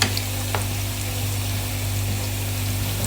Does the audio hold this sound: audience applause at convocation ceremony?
no